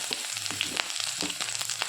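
Whole spices (ginger, cinnamon, cloves, cardamom) hit hot oil for pulao, crackling and sizzling steadily up close with scattered sharp pops.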